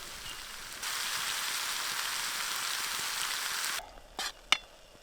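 Steady, loud sizzling of food frying in a hot pan at a riverside bush campsite, cutting off abruptly near the end, followed by a couple of light clinks.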